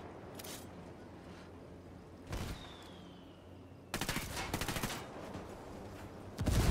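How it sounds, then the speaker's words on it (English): Mortar fire and a missile strike in the Ghost Recon Wildlands video game, heard as several loud broadband blasts and bursts of gunfire-like impacts spread across the stretch, with a dense cluster of hits near the end. "he's firing a mortar, and then this missile just loops in and murders him"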